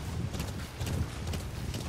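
Horse galloping in Metal Gear Solid 5, a rapid rhythmic clip-clop of hooves on the ground, close and steady throughout.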